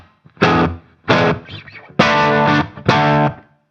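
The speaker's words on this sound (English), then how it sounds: "now I've got that room sound, that kind of natural slapback" Four bursts of distorted electric guitar, each chord ringing briefly with a short room echo trailing behind, separated by brief gaps.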